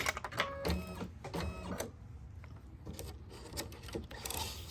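An embroidery machine stitches a pineapple crossbody bag with rapid rhythmic mechanical chatter in short bursts and pauses, close and moderately loud, with no talk.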